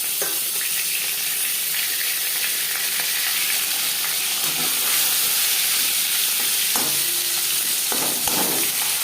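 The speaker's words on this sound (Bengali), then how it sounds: "পরের মাছ ভেজে নেব।" Rohu fish pieces frying in hot oil for a fish curry with brinjal, a steady close sizzle and hiss with occasional sharper spits and stirring clatters, no talking.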